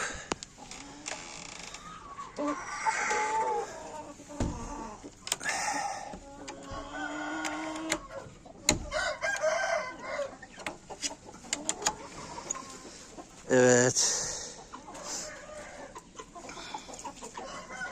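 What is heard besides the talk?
hen clucking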